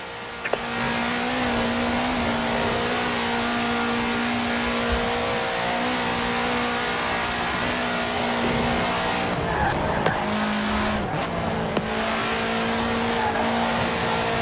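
A car engine drones at high revs in the racing game Forza Horizon 4, a loud sustained roar with shifting pitch and brief tyre noise, continuous throughout with no talk.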